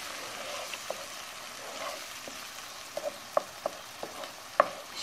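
Tomato sauce frying in a pan while green beans are being cooked in olive oil, with a steady low sizzle and a few sharp pops and stirring clicks, alone without talk.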